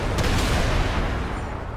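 Dense, rumbling booms and crackling bursts of explosions in the game FiveM pile up continuously, like heavy gunfire and explosions blending into one loud, sustained roar.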